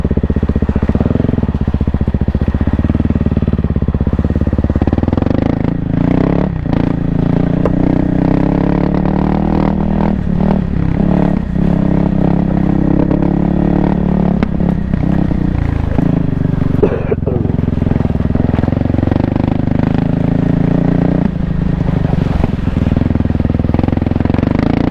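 A 2024 Kawasaki KLX300R dirt bike engine runs loud and steady as the bike climbs a steep, near-vertical trail pitch, with clattering and shifts in engine note throughout.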